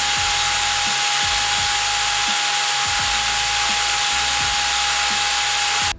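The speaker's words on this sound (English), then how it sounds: "drill 2 holes, they should mount right here." A power drill whines steadily and loudly throughout, drilling mounting holes for handlebars on a pit trike, with a rhythmic low chatter as the bit works through material.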